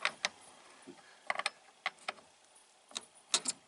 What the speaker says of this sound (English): Tighten the bar back up.